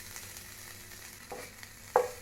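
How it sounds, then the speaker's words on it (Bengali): Grated garlic and a small piece of ginger fry gently in a little oil in a pan, giving a soft, steady sizzle with a brief louder crackle near the end. "হালকা ফ্রাই করে নিচ্ছি।"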